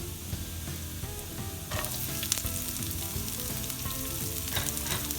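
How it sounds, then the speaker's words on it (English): Garlic sizzles steadily in hot oil in a pan while saag bhaji is being cooked, a close, continuous crackling fry with occasional stirring scrapes and no voices. "our garlic is nice and golden brown"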